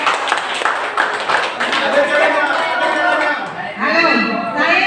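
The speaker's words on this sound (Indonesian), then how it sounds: "Tepuk tangan" An audience in Aceh Barat, Indonesia, claps at the close of a village competition presentation, scattered hand claps mixed with murmuring voices and a speaking voice, with a brief lull near the end.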